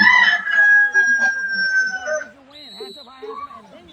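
A rooster crows once, a loud drawn-out call lasting about two seconds, followed by a voice talking.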